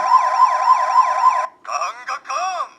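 An electronic toy police siren wails in a fast rising-and-falling sweep, then breaks into short choppy bursts of warbling tone, loud and close.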